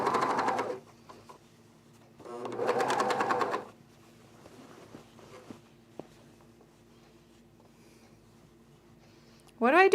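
Domestic sewing machine stitching fabric under the presser foot in two bursts of rapid whirring stitches, near and clear, with a quiet pause between and a third burst starting at the end.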